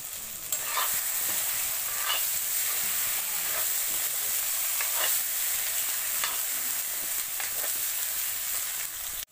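Potatoes go into goat meat frying in a kadai and set off a loud, dense, continuous sizzle, with faint scraping stirs running through it.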